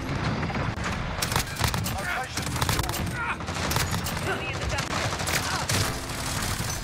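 Dense, continuous gunfire from the Call of Duty Modern Warfare video game, with overlapping rapid shots and bursts of a fusillade sounding steadily loud throughout.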